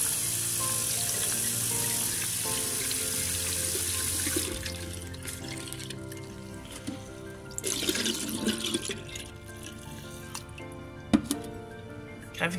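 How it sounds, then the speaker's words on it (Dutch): A coin smeared with ketchup is rinsed under a running tap, water hissing steadily into a glass or sink, then easing into softer trickles and a few drips and clinks near the end. "Ik spoel het eventjes weg met water"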